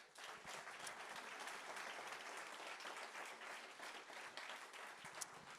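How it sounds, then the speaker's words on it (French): Steady, full audience applause fills the room at a business awards ceremony in the Gers, a dense wash of clapping with a few sharper individual claps standing out. "Vous pouvez vous applaudir très fort."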